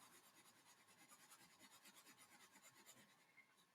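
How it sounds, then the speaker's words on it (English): A 4B pencil shades and cross-hatches on paper, producing faint, rapid rhythmic scratching strokes, quiet and close, ending with a sharp tap. "Shade that in, cross hatch it"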